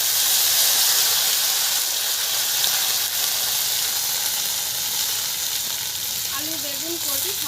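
Nigella seeds crackling and sizzling in hot mustard oil in a wok, a steady loud hiss throughout with a few faint chirpy pops near the end.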